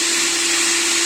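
A 280-watt electric blender running empty with no load, drawing about 161 watts. It gives a loud, constant motor whir with a steady hum underneath throughout, close and alone.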